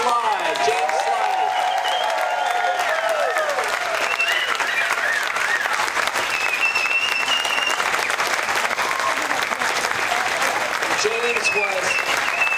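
A large outdoor festival crowd at the California Avocado Festival claps and cheers steadily, a loud sustained wash of applause with whoops and shouts rising over it throughout.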